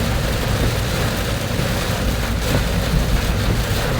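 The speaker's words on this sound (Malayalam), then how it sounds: "നല്ല മഴ." Heavy rain falls steadily during a red-alert downpour, a dense, constant broadband wash that stays loud and unbroken throughout with no talk.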